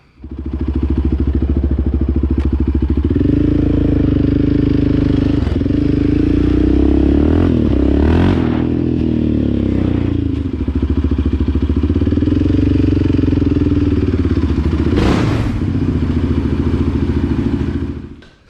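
A modified 2020 Yamaha Raptor 700R SE ATV, widened by 50, runs on a street with its engine droning loud and close throughout, rising and falling with throttle changes and a few clattering thumps along the way.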